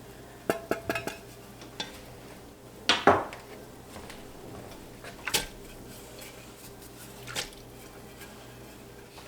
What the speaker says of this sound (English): I'm gonna add the clams in now. I'm adding the juice from at least 1 can.